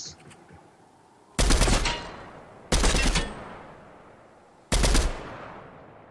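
Three loud, close bursts of rapid gunfire in the video game Fortnite, spaced about one and a half seconds apart, each ringing out and fading before the next.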